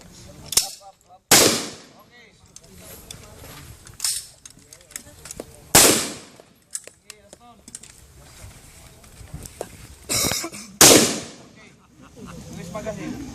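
Rifle shots at an outdoor firing range, several sharp loud cracks spaced a few seconds apart with echoing tails, amid background voices and shuffling noise.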